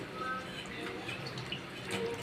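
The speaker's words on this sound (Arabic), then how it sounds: "هنحط بقى عليها كوبايه ميه كده" A cup of water is poured over soaking chicken in a kitchen, giving a soft, steady splashing trickle that stays faint and continuous throughout.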